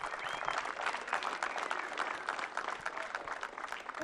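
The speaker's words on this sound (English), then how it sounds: "give you guys as Limpopo Tourism a round of applause" Spectators at the Limpopo Championship golf final round applaud Limpopo Tourism, a dense, fairly distant patter of clapping sustained evenly across the moment.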